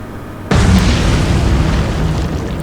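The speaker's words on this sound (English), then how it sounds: "Right, here comes our torpedo." A torpedo strike in the naval video game Atlantic Fleet lands as one sudden, loud explosion, its broad roar lingering and slowly fading without a break.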